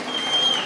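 Audience applause at a Tamil comedy pattimandram debate, a steady wash of clapping from a crowd, moderately loud and continuous through the short moment.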